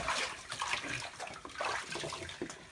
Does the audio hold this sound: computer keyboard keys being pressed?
no